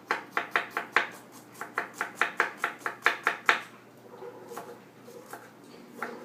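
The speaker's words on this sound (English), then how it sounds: "just kind of chop it up small so it can just saute in the pan with the rest of the ingredients" A knife chops ingredients small on a cutting board for Cuban empanada filling, quick rhythmic taps in a steady run, then a pause and a few slower, scattered cuts, close and alone.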